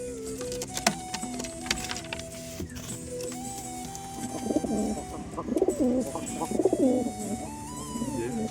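Pigeons in a loft coo in low, throaty rolling phrases that grow busier and louder in the second half, close by, over faint mechanical whirring and scattered clicks, with no talk.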